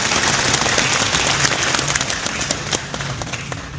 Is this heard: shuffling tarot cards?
no